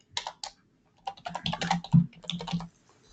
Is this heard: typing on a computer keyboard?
yes